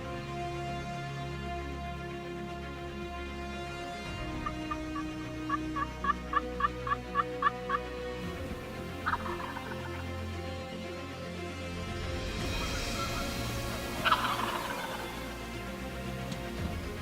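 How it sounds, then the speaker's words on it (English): A wild turkey gobbles from a distance in the spring woods: a short rattling gobble, then another a little later, with faint birdsong and open outdoor ambience between them. "there's been a couple gobbles up on the ridge, a couple gobbles across the valley"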